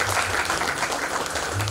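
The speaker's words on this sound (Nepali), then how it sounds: "ताली निरन्तर बजिनुहोस् सम्मानको क्रममा" Continuous applause from an audience at an honouring ceremony during a Buddhist community grand finale event, a dense sustained clapping that stays loud throughout without speech over it.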